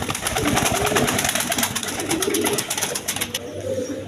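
Gola and Lalgola pigeons cooing in a coop, repeated soft throaty coos over a busy background of rustling and fluttering, close and fairly loud, fading near the end.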